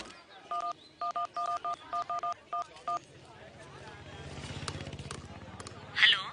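A telephone number is dialed on a keypad: about nine quick touch-tone beeps in an uneven rhythm, followed by a low background rumble and a brief louder noise at the end.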